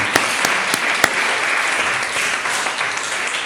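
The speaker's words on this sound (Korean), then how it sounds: "축하의 박수를 함께 했으면 좋겠습니다." A church congregation in Vienna claps in congratulation for a graduating former Vienna Boys' Choir member, loud sustained applause with a few sharp individual claps standing out near the start.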